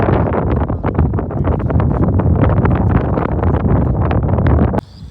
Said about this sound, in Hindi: बहुत शानदार हवा चल रहा है